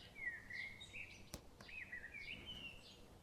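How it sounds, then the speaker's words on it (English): Birdsong in a forest: two clear, bright whistled phrases ring out one after another over a soft background hush, with a brief sharp tick between them. "Let the birdsong carry you back."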